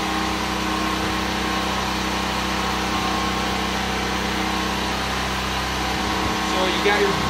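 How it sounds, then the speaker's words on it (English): Air compressor running steadily inside an auto detailing trailer, a constant mechanical drone and hum that fills the whole stretch, with someone talking over it. "you can control the compressor on and off with the remote from the vehicle"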